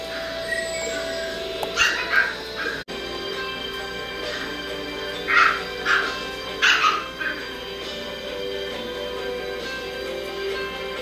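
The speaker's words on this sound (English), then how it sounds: "That's Gigi probably growling." A small dog growls and whimpers in short bursts around larger dogs, the sounds coming in brief clusters over a steady background hum.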